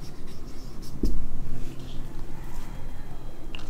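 An equation being written by hand during a maths lesson, with soft scratching strokes and a brief tap. The sound is quiet, carried under a steady room hum, and no voice is heard.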